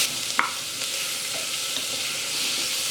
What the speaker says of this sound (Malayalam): ഇനി ഇതിലേക്ക് ചതച്ച് വെച്ചിരിക്കുന്ന ഇഞ്ചിയും വെളുത്തുള്ളിയും കൂടെ ചേർത്ത് വീണ്ടും നന്നായിട്ട് വഴറ്റി കൊടുക്കണം